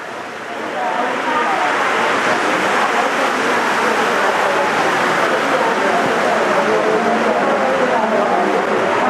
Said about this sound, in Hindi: बरसात की आवाज सुनाई दे रही है।